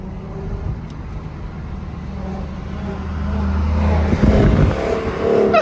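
A loud car engine rumbles nearby and swells as it revs up toward the end, over a low background hum.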